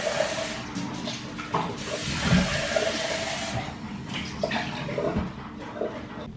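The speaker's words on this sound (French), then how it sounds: "On va mettre le lait là-dedans." Milk poured from a carton into a container in a home kitchen gives a steady, close-up liquid splashing and gurgling that runs the whole time, with a few soft knocks.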